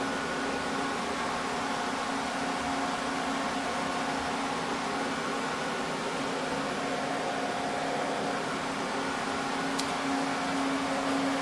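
Cooling fans in a full home server rack holding a router, web server and 2U machines hum with a steady, even whir and a constant tonal drone, unbroken throughout.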